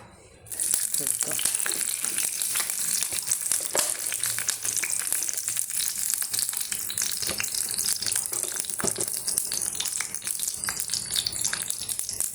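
Mustard seeds and onion hit hot coconut oil in a pan. After a short quiet moment, a sudden loud sizzle begins and continues as a crackling hiss with scattered pops, and a voice is faintly heard at times.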